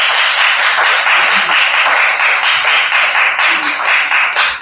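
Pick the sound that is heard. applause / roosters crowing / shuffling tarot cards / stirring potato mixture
applause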